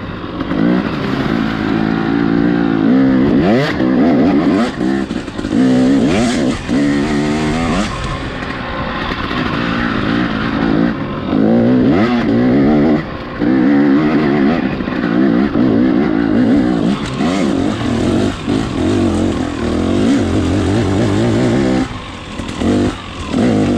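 A dirt motorcycle tears up hill climb trails, engine revving hard and loud with repeated throttle surges and gear changes, close and continuous throughout.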